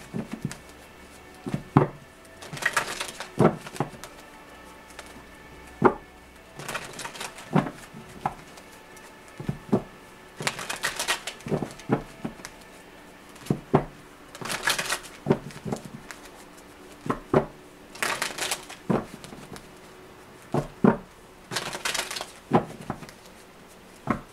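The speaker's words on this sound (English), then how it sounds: "Let me do some shuffling now." Tarot cards shuffled by hand in repeated bursts of soft riffling and tapping, separated by short pauses, quiet and close, with no talking.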